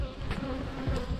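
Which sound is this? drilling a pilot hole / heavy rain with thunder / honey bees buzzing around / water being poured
honey bees buzzing around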